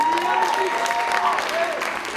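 Theatre audience applause, a dense steady wash of clapping with some tonal voice or music traces threaded through, fairly loud and sustained for about two seconds.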